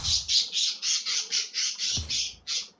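A pet bird squawks alone in a quick, regular series of about ten harsh, loud, closely spaced calls.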